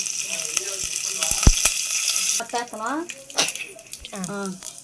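Mustard seeds, spices and curry leaves crackle and sizzle in hot oil for a tomato rasam tempering under a steady frying hiss, while a person talks over it.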